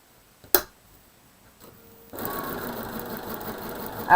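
A sewing machine stitching a quilt block for a sampler class: a sharp click, a quiet pause, then the motor starts and runs in a steady close whir to the end.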